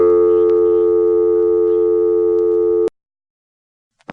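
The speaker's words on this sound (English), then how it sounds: "on the dial tone, you can hear John Doyle announcing the time" A steady, loud telephone dial tone from an ITT Pentaconta crossbar switch in Asheboro, North Carolina, in 1986 holds for about three seconds, then cuts off abruptly into silence before a brief click.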